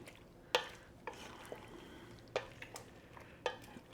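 Hot potatoes are mixed into beaten eggs for a Spanish tortilla, with a soft wet stirring broken up by several sharp clinks and scrapes of a utensil against the bowl.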